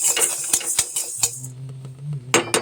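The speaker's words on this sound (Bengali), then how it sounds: "চালটাকে এইভাবে নেড়ে নিচ্ছে কাঠখোলায়" Rice is stirred and dry-roasted in a clay pan, a kathkhola, giving rapid scraping clatters and light taps in an irregular rhythm, close and crisp, with no talk.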